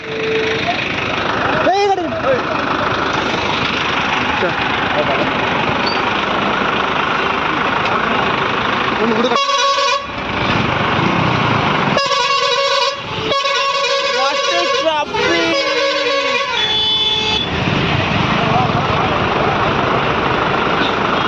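A traffic jam in Odisha near a bus stand: engines idle steadily while car and bus horns honk repeatedly in bursts, some long and sustained, close by and loud.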